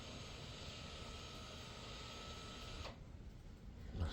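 Electric parking brake motor on a Kia retracting during a brake pad change, a steady mechanical whir held for about three seconds before cutting off, with a softer hum and a faint clunk after, no talking.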